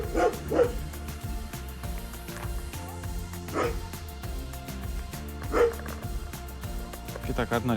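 At an animal shelter, the dog Baris lets out short barks and yips in spaced bursts, mixed with whimpering and people talking nearby.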